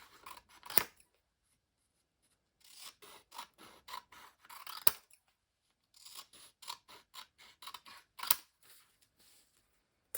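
Scissors snipping through paper photos for a black-and-white collage, with bursts of quick close cuts, rustling and light scraping separated by quiet pauses, no talking.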